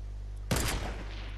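A short, loud burst of rapid gunfire in a shooter video game cracks out suddenly against a low background hum, then decays quickly.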